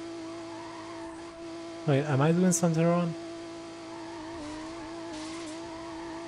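A Mazda RX-7 in the Need For Speed video game holds a steady droning engine note from start to finish, briefly interrupted by someone speaking over it.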